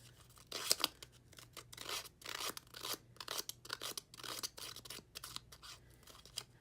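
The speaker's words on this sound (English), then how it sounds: "just take my little distressing tool and just run along just the edges of the strip" Quiet, rapid scraping and rasping strokes of a distressing tool along the edges of a paper strip, repeated in short bursts with a faint steady hum underneath, close up and without speech.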